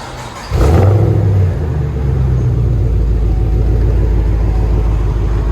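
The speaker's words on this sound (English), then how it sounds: "Chevy Camaro SS. FLOWFX. That sounds so much better." A 2012 Chevy Camaro SS with a 6.2L V8 and Flowmaster Flow FX exhaust snaps into one loud, close rev. The rising roar falls back to a deep, steady burbling idle that rumbles on.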